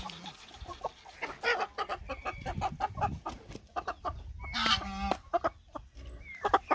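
A handsome rooster on a Goiás farm clucks repeatedly in short, close bursts, with a louder squawking call midway among other fowl noises.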